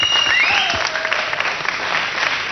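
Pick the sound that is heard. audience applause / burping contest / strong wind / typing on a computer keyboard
audience applause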